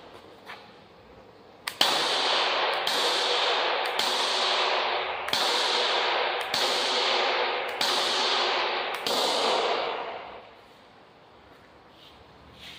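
Six sharp shots from a Umarex air pistol crack in quick succession into a hard mannequin, each followed by a loud hissing rush, then the noise fades out.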